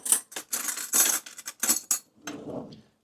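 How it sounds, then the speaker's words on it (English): A metal spoon clinks and rattles against other cutlery while being pulled from a utensil holder in a kitchen during avocado toast preparation, a series of bright, close clatters followed by a softer rustle. "Let me get a spoon."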